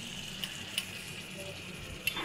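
Potatoes half-fried in a home kitchen pan for a simple chicken curry give a steady, close sizzling hiss with a few sharp oil pops, and no one speaks.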